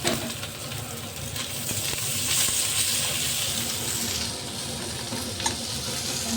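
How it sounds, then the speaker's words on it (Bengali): Chopped onion fries in a pan with a steady close sizzle and occasional stirring scrapes, continuous and moderately loud. "পেঁয়াজটা আগে একটু ভেজে নিই।"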